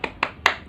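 A classroom claps out a short rhythmic cheer, three crisp claps in uneven beats, close and clear.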